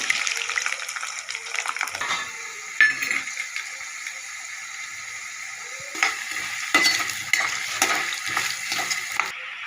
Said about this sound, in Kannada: ಇವಾಗ ಆಲೂಗಡ್ಡೆನ ಹಾಕಿ ಕೆಂಪಿಸಾಗೋ ಥರ ಹುಡ್ಕೊಳ್ಳೋಣ ಇದು ನೀಟಾಗಿ ಕೆಂಪಾಗಬೇಕು